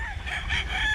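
A young rooster, a stag, crows at a chicken farm, one loud, close call with a strained, rising pitch filling the whole second and no talk over it.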